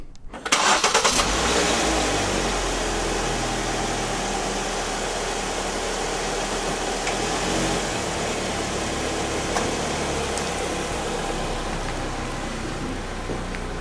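A Ford Focus engine cranks and catches at the start, then settles into a steady, loud idle that runs continuously and evenly close by with no speech.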